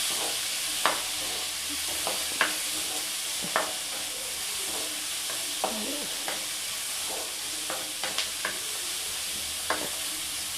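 Small shallots sautéing in a pan for a broad beans stir-fry: a soft steady sizzle broken by sharp spatula taps and scrapes at irregular intervals, fairly close and without talk.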